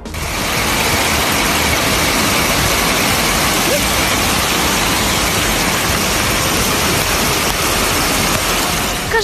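Hail falling on a summer day in the Nizhny Novgorod region, a dense, even hiss of countless small impacts that holds steady and loud throughout, with no voices.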